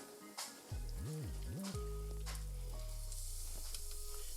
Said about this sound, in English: You want it to really sizzle when it hits that pan.